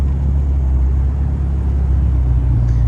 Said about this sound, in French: Petite féfé qui arrive encore.